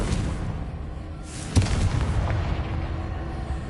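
A Confringo fire spell going off in Hogwarts Legacy: a sharp explosive crack with a deep boom, heard once amid ongoing low game rumble and with no voices.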